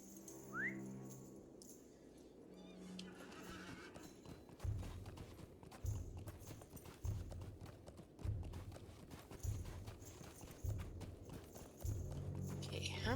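Horse hooves clip-clop at a steady walking rhythm in the LOTRO online game during a Yule festival scene, regular soft thuds under a person talking, with a faint whistle early on.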